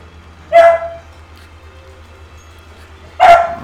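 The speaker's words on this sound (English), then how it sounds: "Sassy, what are you barking at?" Sassy the dog lets out two sharp barks about three seconds apart, close by over a low steady hum.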